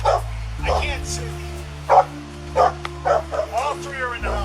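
Three unrestrained dogs inside a house during a police encounter give sharp, close barks, yips and brief whimpers in uneven bursts, with people talking over them.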